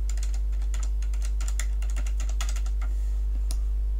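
Close, quick typing on a computer keyboard, a burst of rapid clicks and taps that thins out toward the end, over a steady low electrical hum.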